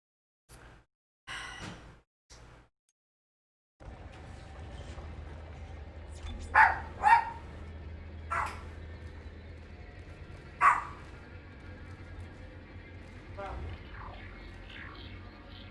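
Several dogs bark in sharp, loud bursts at a robot vacuum being started indoors, with a few yips up close over a steady low hum and some background noise from a game.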